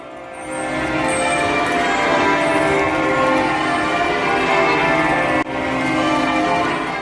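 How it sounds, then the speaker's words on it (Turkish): Church bells of an old Gothic church in Birmingham, England, ringing loudly and continuously, their overlapping peals forming a dense, sustained wash of sound with no voices. "Çanlar şu anda çalıyor"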